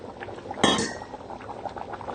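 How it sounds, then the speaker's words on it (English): Tomatoes drop into a pot of simmering mutton dhalca with one sudden wet splash and clatter, then low bubbling continues quietly afterward, with no voices. "let's add the tomatoes"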